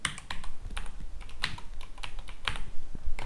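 Keys clatter close by as someone types quickly on a computer keyboard, a dense run of clicks and taps with no voices.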